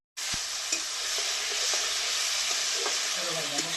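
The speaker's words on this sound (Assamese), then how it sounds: "এতিয়া দিম মই কাটি থোৱা আলু আৰু কেঁচা মছলা।" Chopped potatoes and raw spices go into a pan over softened tomatoes and start frying with a sudden onset, then a steady close sizzle and hiss with light stirring scrapes.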